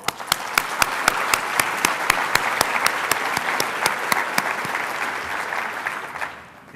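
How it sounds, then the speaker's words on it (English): Applause from an audience at a chamber of commerce annual meeting, greeting the elected officials in attendance: dense, steady clapping with a few sharp, distinct claps standing out, carrying on for several seconds before tapering off at the end. "Could we get a round of applause for them?"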